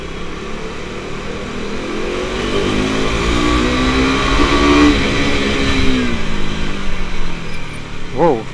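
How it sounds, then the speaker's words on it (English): A KTM motorcycle with wrapped exhaust revs and accelerates through a tunnel, its engine note rising and echoing loudly, with a brief sharp rev near the end and someone talking over it. "I guess you could hear the exhaust note, or if not, I really hope that the tunnel is empty"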